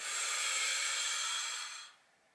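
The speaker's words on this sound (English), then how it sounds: "you can kind of hear my exaggerated breathing out" A single exaggerated breath out during a seated chair exercise: a close, soft, airy hiss lasting about two seconds that then fades away to quiet.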